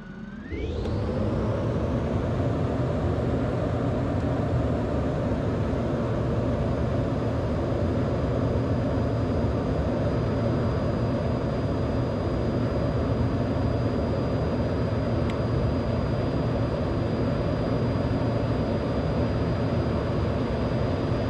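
An F-16 jet in a flight simulator spools up for takeoff from the runway, its engine roar climbing quickly and then holding as a loud, steady, unbroken rumble and whine.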